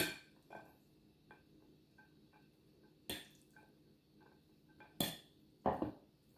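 Spaghetti noodles for carbonara being mixed in a pan, heard as soft sticky stirring with a few sharp clinks and scrapes of a utensil against the pan, spaced irregularly and fairly quiet.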